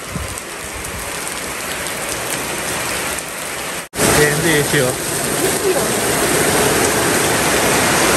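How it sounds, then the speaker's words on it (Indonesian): Heavy rain pours steadily on a roof in Indonesia, a dense loud hiss filling the whole clip with a brief dropout midway, while a person talks over it. "Karena ini hujannya deras, ini berisik banget, teman-teman"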